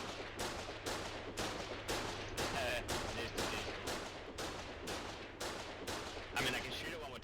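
Tank gun firing in a video game, a regular series of about a dozen sharp blasts roughly every half second over a constant low hum, with voices in the background.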